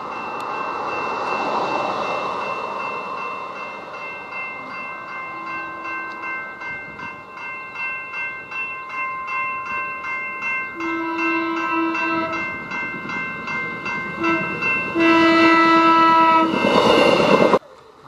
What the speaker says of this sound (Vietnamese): Xe lửa